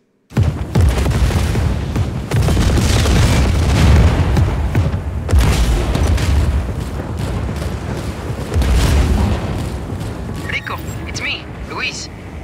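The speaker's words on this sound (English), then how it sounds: "That's a rocket." Rocket explosion in Just Cause 4: a loud, sustained booming roar that swells in heavy rumbling waves for over ten seconds before easing off, with game noise over it.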